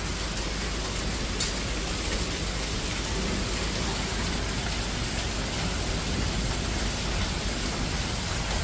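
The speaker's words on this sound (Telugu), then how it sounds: "సో వడగళ్ళు అయితే మొత్తం ఎలా వస్తున్నాయో తెలుసండి భలే ఉంది" Hailstones pelt a car in a heavy hailstorm, a loud, continuous drumming roar like dense rain with one sharper knock near the start and no voices.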